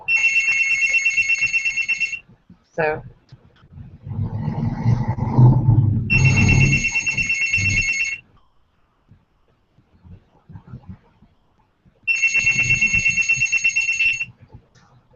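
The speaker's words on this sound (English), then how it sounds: "my phone is ringing" A phone rings in three bursts of electronic trilling tones with pauses between them, and a voice speaks briefly between the first two rings.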